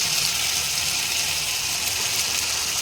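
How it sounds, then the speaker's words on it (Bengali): Water pours steadily into a pan of rohu fish bhapa with mustard paste, a continuous close gushing splash that stays even and unbroken for the whole stretch. "পুরো জলটা আমি এখন দিয়ে দিচ্ছি।"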